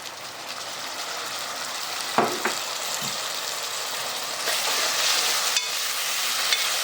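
Onions and tomatoes fry in a pan for urad dal, giving a continuous hissing sizzle that grows brighter after the midpoint, with a few sharp clicks of stirring.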